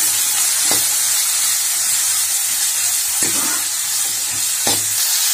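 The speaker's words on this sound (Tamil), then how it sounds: "இப்போ இஞ்சியோட சேர்த்து கத்திரிக்காயை சேர்த்து வதக்குவோம்." Ginger and brinjal stir-frying in a pan for a ginger-garlic tamarind kuzhambu give a steady sizzle, with a few clear spatula scrapes and clinks against the pan, close and alone.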